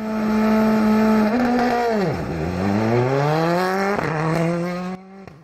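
Skoda rally car at the Argyll Rally 2023 passing near on a tarmac stage, engine note rising through the gears, dropping sharply as it brakes and downshifts, then climbing again before fading away.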